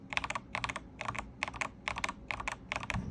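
Akko Dracula mechanical keyboard switches typed in quick bursts, about seven clusters of crisp, poppy clacks at close range, with nobody talking.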